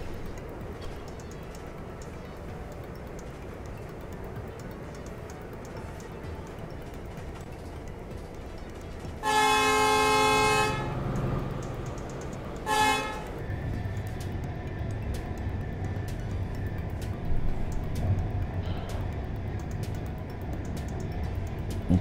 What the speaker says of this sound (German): Erstes Mal, dass wir hier einen Zug sehen, ne?